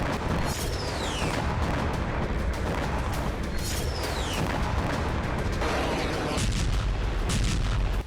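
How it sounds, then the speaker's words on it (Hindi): Artillery fire and missile strikes in Ukrainian war footage around Luhansk, a dense, continuous barrage of booms and blasts with whistling projectile streaks, loud and unbroken throughout with no talk. "यूक्रेनी सेना इस वक्त रूसी फौज को अटैक एमएस मिसाइलों से टारगेट कर रही है।"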